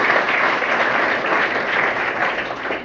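A hall audience gives loud, sustained applause in honour of Babasaheb Ambedkar during a talk on the Indian constitution: a dense, even wash of clapping from many hands that keeps going from start to finish.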